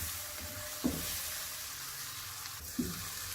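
Green chilies sizzle in a pan over a low-to-medium flame, a soft continuous frying hiss with two brief louder pops or stirs near the start and end.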